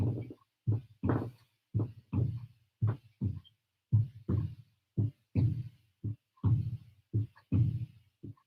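A hand drum struck in a steady heartbeat-like pattern, paired beats repeating evenly, close and clear with no voices.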